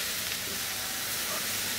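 Cauliflower fries in a pan, giving a steady, dense sizzle. The hiss is continuous and moderately faint at close range, with no talk.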